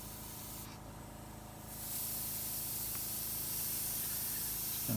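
An older Copic airbrush running low on skin-tone ink sprays in a steady, close hiss that strengthens after a short quieter start and then holds continuously.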